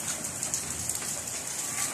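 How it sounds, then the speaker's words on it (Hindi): Steady rain falling outside during wet weather, a soft continuous hiss of drops with faint bird cooing somewhere in the background. "अगर बारिश हो रही है"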